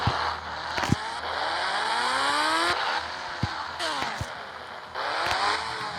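A car engine in a city driving video game revs up and down in repeated rising and falling sweeps, steady and close, with a few sharp knocks and thumps along the way.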